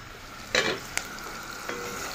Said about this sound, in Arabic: وهنا هنحمر البصل